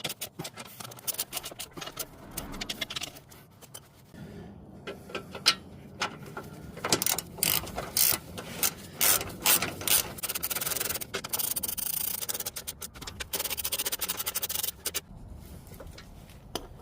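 Wrenching on the bolts of a ZZP oversize aluminum high-performance radiator in a Chevy Cobalt, giving close, irregular bursts of scraping, clicking mechanical strokes with brief pauses, no talking.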